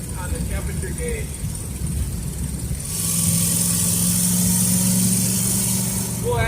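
A Ford Fairlane V8 fitted with a Holley carburetor runs steadily, not yet warmed up, and its engine note steps up into a louder, even drone halfway through, with a faint steady whine above it.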